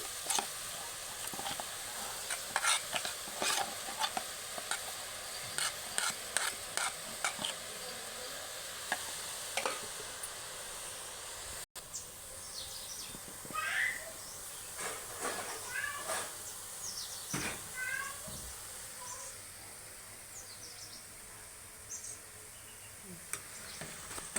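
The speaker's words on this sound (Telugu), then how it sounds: "ఇట్లా చిన్న చిల్లులు గిన్నెంటే దాంట్లో ఇట్లా గంటతో ఇట్లా బీట్ చేస్తుంటే బూందీ పూసలు పూసలుగా చక్కగా పడిద్ది" Boondi batter drips through a small-holed ladle into hot oil, steady hissing sizzle with many quick tapping strikes of a spoon on the ladle and scattered crackles, close and moderately loud.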